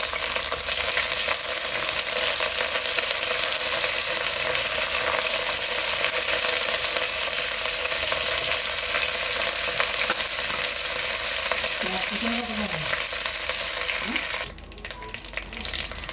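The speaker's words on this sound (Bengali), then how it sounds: "কারি পাতাটা ভাজা হয়ে গেছে" Curry leaves frying in hot oil in a pan, a steady continuous sizzle with scraping stirring strokes throughout, briefly broken near the end, no voices.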